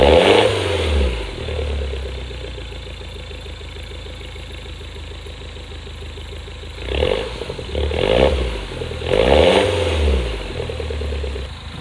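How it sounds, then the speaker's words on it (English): A modified Mini's exhaust idles with a steady low rumble, then three sharp revs swell and fall back near the end, loud and close with no talking. "let's actually hear what the exhaust sounds like"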